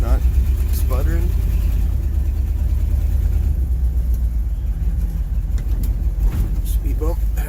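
A 1979 car engine idles and then accelerates, a loud low rumble that swells with throttle, heard up close with someone talking over it.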